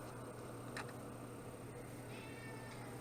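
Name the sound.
cat meowing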